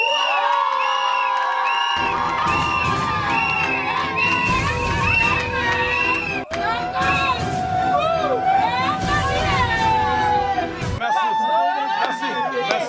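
A party crowd cheering and whooping together, loud and sustained, with shouting and chatter mixed into the roar of voices.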